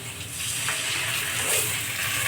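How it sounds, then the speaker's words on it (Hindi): Water pours steadily into a pan of potatoes and fenugreek leaves being cooked, a continuous close splashing gush with no talking. "अब इसमें पानी डाल देंगे कि आलू हमारा पक जाए।"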